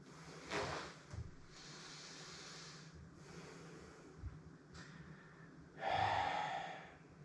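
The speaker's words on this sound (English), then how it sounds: "Let's go for 5 more deep breaths." Slow, deep breaths during a stretching exercise, with audible inhales and exhales recurring every couple of seconds, quiet and close, with a stronger breath near the end and no talking.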